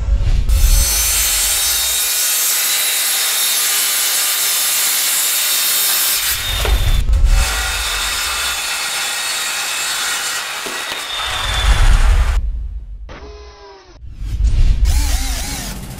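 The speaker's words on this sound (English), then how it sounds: "That is the ROK 185mm circular saw." A loud ROK 1200W 185mm circular saw whines through wood in several long cuts, with short pauses between them and the motor spinning up and winding down at the end.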